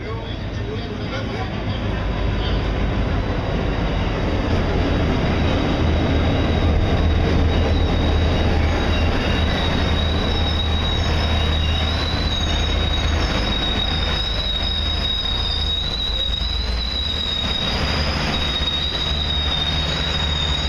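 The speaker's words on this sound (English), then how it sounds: "Getting ready to jump on the train for the Copper Canyon" A train to the Copper Canyon in Mexico rumbles loudly and continuously, with a high metallic wheel squeal running through most of it and steady clatter beneath.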